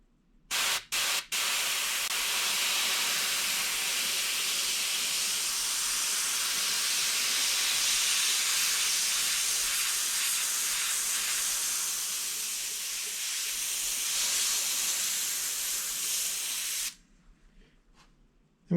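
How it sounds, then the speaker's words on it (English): An airbrush sprays red paint onto the gills of a northern pike replica, a loud continuous close hiss that runs unbroken for about sixteen seconds after a few short bursts, then stops abruptly. "So I got my airbrush,"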